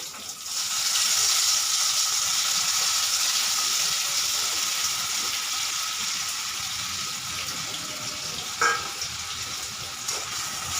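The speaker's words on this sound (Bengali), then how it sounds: "এবারে আমি এর মধ্যে চালটা দিয়ে দিচ্ছি।" Rice frying in a hot pan gives a steady, loud hiss that swells near the start and holds evenly, with a brief scrape or clink near the end.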